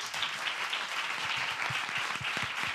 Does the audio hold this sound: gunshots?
no